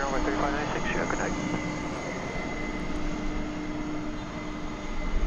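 An airplane at DFW Airport, heard as a steady, continuous engine roar with a faint tonal hum that holds throughout and swells slightly at the end.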